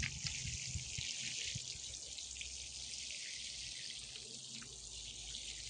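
Water poured generously over freshly sown seedlings in dry soil of an autumn vegetable garden, a steady close rushing hiss with faint low thumps and spatters, continuous for the whole stretch with no talking.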